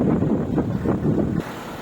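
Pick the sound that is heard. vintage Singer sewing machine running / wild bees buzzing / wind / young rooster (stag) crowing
wind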